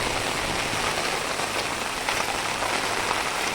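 Heavy monsoon rain pours steadily in the Konkan countryside, a dense, unbroken hiss of drops pattering on surfaces and fields, loud and close throughout with no voices.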